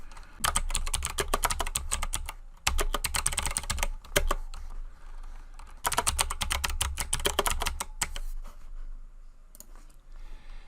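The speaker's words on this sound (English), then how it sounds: "I'm just going to type a few words." Fast, close clicking of keys on a computer keyboard comes in several dense bursts separated by short pauses, steady and moderately loud with no voices.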